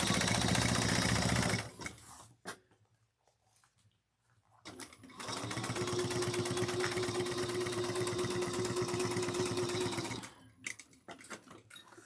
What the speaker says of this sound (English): we're going to top stitch using a 1/8 of an inch seam allowance